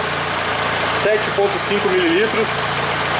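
Audi A3 1.8 20v AGN engine from 2006 idling steadily with the air conditioning compressor switched on, a constant close mechanical hum, with someone speaking over it briefly.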